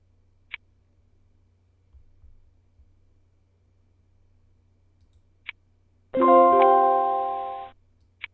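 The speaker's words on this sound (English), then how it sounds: "the sound that you're actually hearing, the little the chimes" Notification chimes from an online gun auction bidding website ring out: a few short isolated pings spread through near silence, then a louder sustained ringing chime lasting over a second that fades away.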